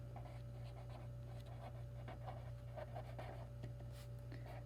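Intervals being written out during a math lesson, with faint, close pen strokes and light scratches repeating at an irregular rhythm over a steady low electrical hum.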